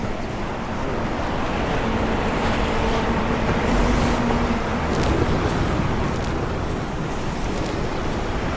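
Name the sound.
waves on beach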